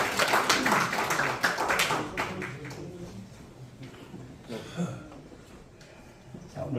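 A church congregation applauding during a gift presentation at a Sunday morning service: a dense patter of clapping hands that is strongest at first, then thins and fades into quieter room noise with a few scattered claps.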